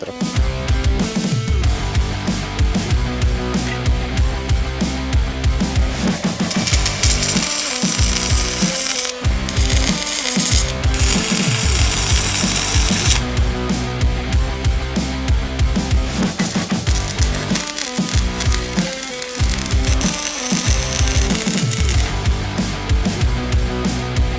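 An APRO inverter welder running a 2 mm electrode, a continuous loud crackling and buzzing arc with steady mechanical-sounding texture throughout, close up with no talking.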